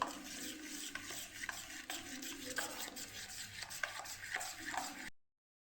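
Steady scraping and swishing of a spoon stirring thick dhokla batter for fasting-day farali dhokla in a bowl, continuous and close, with small clinks along the way.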